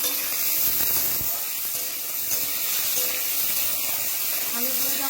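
Potato pieces fry in hot oil, a steady close sizzle and hiss with occasional faint pops that runs evenly throughout.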